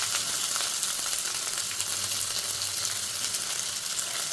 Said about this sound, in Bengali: পেঁয়াজগুলো দিয়ে ভালো করে নাড়তে থাকবো